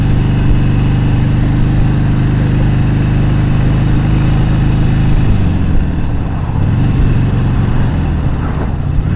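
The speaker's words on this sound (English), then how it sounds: "there's not the slightest sense that this bike doesn't have enough power to handle this curvy, very steep road" A motorcycle engine drones loudly and continuously as the bike climbs a steep, curvy road in second gear, with a steady low hum and a slight shift in tone midway through, alongside wind rumble.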